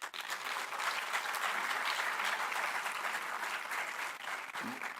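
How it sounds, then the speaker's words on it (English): Audience applause at an international symposium on law and peace, a dense, steady wash of clapping from a large hall crowd, sustained at an even level for several seconds before tapering at the end. "clapping by you all was more louder when Pradeep Rai has given the offer"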